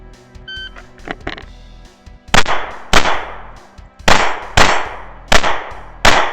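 Rifle shots striking steel targets at a night-vision stage shooting run, several sharp loud cracks each followed by a ringing metallic clang, spaced about half a second to a second apart, with faint clicks and handling noise beforehand.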